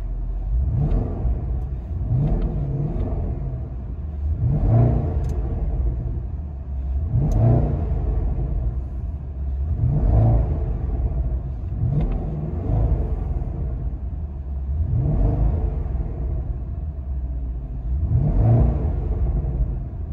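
A 2010 Porsche Panamera Turbo 4.8L V8 with dual exhaust and resonator delete revs repeatedly, heard from inside the cabin, about eight surging rises and falls in a steady rhythm over a constant low rumble.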